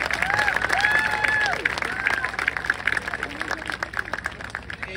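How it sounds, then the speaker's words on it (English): Crowd applause at a marching band tournament, the 2022 Southbay Classic, rolls on as thick, sustained clapping from a large audience, with scattered cheers and a voice speaking over it. "Please join me in giving them a round of applause and thanks for all of the things they had to do"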